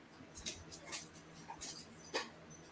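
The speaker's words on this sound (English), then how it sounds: "They have a dog next door." A neighbor's dog whimpers faintly in the distance, giving several thin, high, broken whines over a quiet background.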